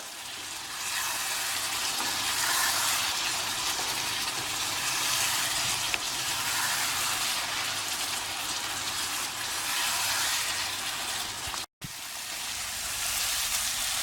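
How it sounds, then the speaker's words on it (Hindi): Chicken sautéed uncovered in a kadhai for Peshawari chicken, a loud continuous frying sizzle like heavy rain, steady throughout with one brief dropout near the end and no voices. "खोल के इसको हम बढ़िया भून लेंगे।"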